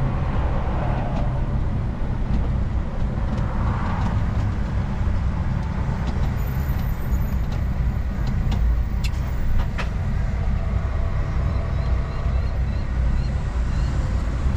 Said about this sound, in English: give us a bit of engine action